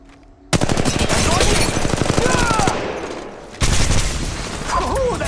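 Rapid automatic gunfire rattles in a chaotic Apex Legends Mobile firefight, loud, close bursts that stop briefly and start again, with a short voice line over the shooting.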